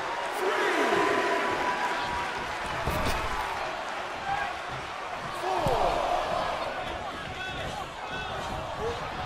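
A heavy wrestling strike landing in the WWE 2K23 game, a sharp slam thudding amid a roaring arena crowd, with commentators talking over the action.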